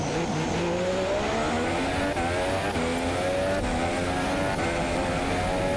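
A Formula 2 race car's engine at the Austrian Grand Prix, loud and close, braking and downshifting into a hairpin, then rising in pitch through the gears as it pulls away with a steady drone.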